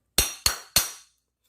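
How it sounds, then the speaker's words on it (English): A hammer drives a cat's paw to pull nails from a carpet tack strip, giving three loud, sharp metallic strikes about a third of a second apart, each ringing briefly before fading. "I just use my cat's paw and hammer"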